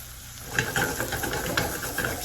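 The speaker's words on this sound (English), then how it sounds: "We're going to toss these guys in here. Our mushrooms and our onions." Mushrooms and onions sizzle on a grill pan, a close, steady hiss with soft clicks and scrapes as they are tossed, with no talking.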